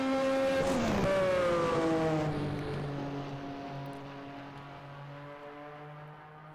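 A 1987 Buick-powered Indy car in a racing video game, its engine whining loudly as it rises in pitch, then a steady high drone that eases and fades slightly as the car runs on, no voices.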